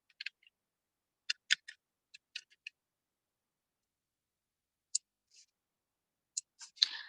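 Typing a command on a computer keyboard, a sparse series of faint, crisp key clicks in small clusters with quiet gaps between them, ending in a short quick run of keystrokes.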